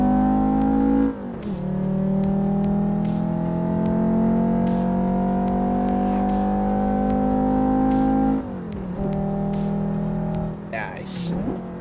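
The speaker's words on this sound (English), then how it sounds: "increase the sound of the 5-cylinder inline Volvo" An inline five-cylinder Volvo car engine in a racing video game revs up and holds a steady high drone, drops off near the end, then climbs again, with a voice briefly over it.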